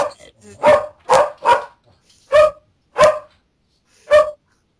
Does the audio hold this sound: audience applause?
no